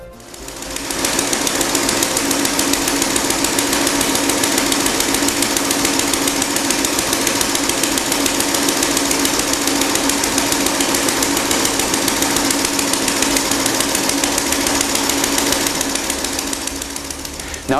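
A loud car engine runs steadily with its exhaust open, a harsh, rapid rattling roar, steady throughout with no pauses.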